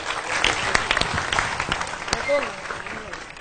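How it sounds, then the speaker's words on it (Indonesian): An audience claps for the regent at a community gathering in Trenggalek: a dense, loud burst of applause filling the room, with a voice speaking over it near the end. "Tepuk tangan untuk beliau."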